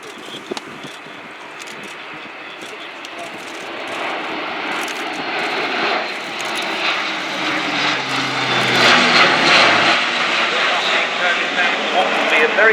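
An Airbus A400M Atlas military transport plane performs a flying display at an air show, its propeller engine roar building steadily and growing louder toward the end, with a commentator talking over it.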